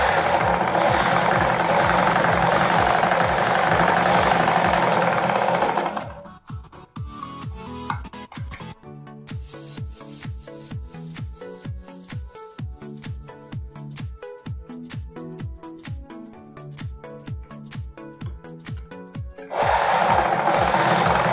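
Sewing machine stitching a designer blouse plate, running in a steady rapid rhythm of close, loud stitching bursts with short pauses between runs, set between louder stretches of other noise.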